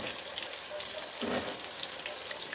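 Fish pieces frying in oil in a pan for a fish biryani, giving a steady broadband sizzle that swells briefly in the middle, with no voices.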